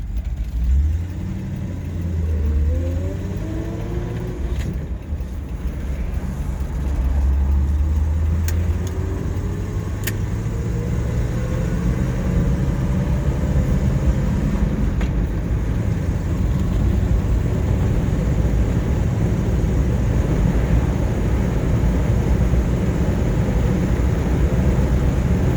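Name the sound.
1941 Buick Super 56C engine idling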